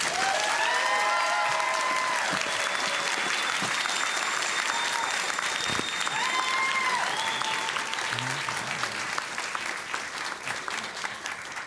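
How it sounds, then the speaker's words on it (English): Sustained, dense applause from a large audience fills the whole stretch, steady and loud, with a few faint whistles riding over it. "One more round of applause for the stream team"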